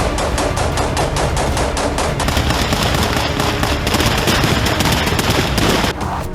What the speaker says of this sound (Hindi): यूक्रेन ने कई मोर्चे से रूस पर हेवी फायरिंग शुरू कर दी है।